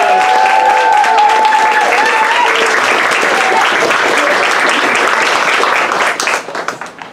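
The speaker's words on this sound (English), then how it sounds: "So please give a warm round of applause and welcome our poets to the stage." A poetry salon audience gives a warm round of applause welcoming poets to the stage, loud continuous clapping with whoops and cheers early on, tapering off in the last second.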